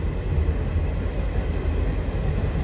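A nearly empty local passenger train on the Siliguri to Murti line in the Dooars rumbles along steadily, a continuous low rolling drone from inside the carriage with no voices.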